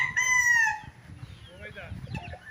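A rooster on a game farm gives one loud, close crow at the start, then quieter clucking and farm background with faint voices.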